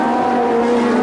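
A Formula 1 car brakes into a hairpin on a Grand Prix circuit, its engine a loud, sustained tonal whine that holds steady over a brief moment with no voices.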